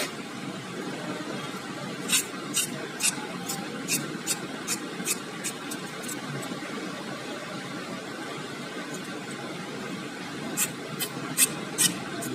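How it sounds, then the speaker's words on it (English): Enamel coating being scraped off copper wire for a homopolar motor: a steady close rasping scrape, with bursts of sharp repeated strokes around the start and again near the end. "scrape off the enamel of the copper wire"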